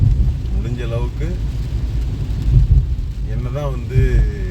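Heavy rain pours steadily over a road where people ride through it on bikes, a dense constant wash with low rumble from passing traffic, while voices talk over it.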